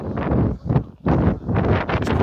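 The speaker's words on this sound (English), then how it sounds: "Sorry about the wind, by the way, it is quite windy too." Gusts of wind buffet the microphone in heavy, rumbling bursts, rising and falling with brief lulls in between, loud and close.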